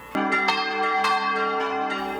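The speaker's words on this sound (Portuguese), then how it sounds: "isto significa dobrar o sino, ou seja, em uma posição favorável que permita o seu giro sincronizado." A church bell swung in the São João tradition rings with several ringing strikes at an uneven pace. Each strike sustains a bright, shimmering tone that overlaps the next, loud and close.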